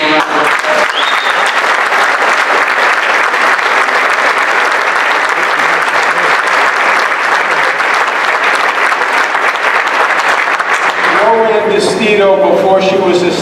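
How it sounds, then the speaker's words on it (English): Sustained loud audience applause at a press conference with the Governor of New York, steady dense clapping for about eleven seconds before speech takes over. "let's give him a round of applause"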